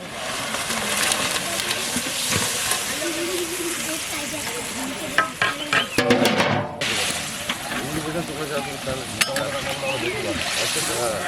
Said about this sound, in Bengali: ঝোলটা ফুটে গেছে, মাছগুলো এবার দিয়ে দেবো।